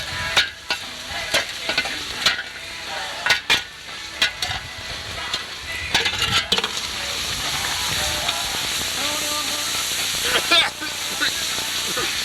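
Hot stones dropped into water for stone soup hiss and sizzle, with sharp spitting bursts early on and then a continuous steaming boil, with voices faintly in the background.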